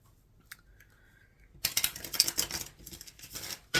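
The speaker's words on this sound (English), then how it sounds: "Spirit, I'm shuffling for the Libra Collective" Tarot cards are shuffled by hand for a reading, a dense, rapid riffling crackle starting after a quiet pause and running steadily to the end, close and fairly loud.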